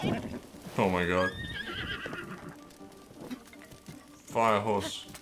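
A fire horse in the video game The Legend of Zelda: Breath of the Wild gives two loud, close whinnies, one near the start and one near the end, with quieter game ambience between them.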